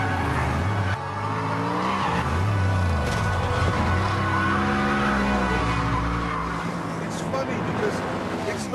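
An Ascari A10 sports car drives with a loud, steady engine roar that rises and falls through changes in pace, with tyre noise and a voice talking over it.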